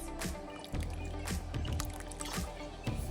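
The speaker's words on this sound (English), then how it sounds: "And I'm also going to add a splash of fish sauce." A splash of fish sauce poured into simmering beef stew broth with tomato sauce, Vietnamese bo kho style: soft close drips and trickles with light clinks over a steady low kitchen rumble, no voices.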